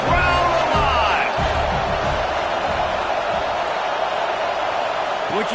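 Stadium crowd at a football game roars steadily and loudly through a third-down red zone play, a dense continuous wall of cheering with a few whoops rising above it.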